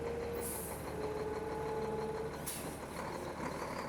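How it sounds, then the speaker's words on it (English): A tractor-trailer truck rolls across a historic bridge, its steady engine rumble loud and close, with a brief hiss of air and a thin whine riding over the drone. "That didn't stop a tractor-trailer from crossing the historic bridge."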